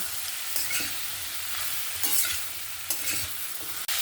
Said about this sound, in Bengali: এবার আমি সবজিগুলো এখানে দিয়ে দেব ওলকপি আর আলু দিয়ে আবারও আমি মিক্স করে নেব